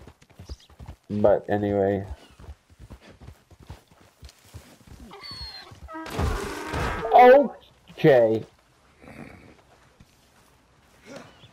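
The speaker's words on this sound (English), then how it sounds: "This horse cannot be brought into the stable" A horse galloping in the Red Dead Online video game, its hoofbeats clopping in quick bursts between stretches of talk, with a louder rush of hooves and movement in the middle.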